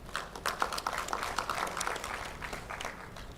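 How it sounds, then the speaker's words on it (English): An audience at a Tanzanian ICT conference applauds after a presentation, a steady, even clatter of many hands clapping at moderate volume, heard alone without speech. "A big round of applause,"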